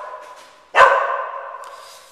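A single sharp dog bark rings out close by after a brief quiet, then fades into a lingering indoor echo and low background hum.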